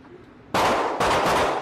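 Two sharp, loud gunshots go off in quick succession at an indoor gun range, each a sudden full-band blast with a short ringing tail, half a second apart.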